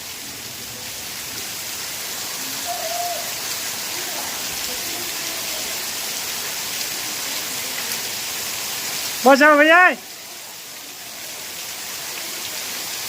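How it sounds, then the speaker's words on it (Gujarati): Heavy rain pours down steadily as a dense, even hiss close by, and a short spoken exclamation cuts in near the end before the downpour carries on. "આવતા હવે નાવા મળી કુંડલાથી આવીને વરસાદ ચાલુ થઈ ગયો."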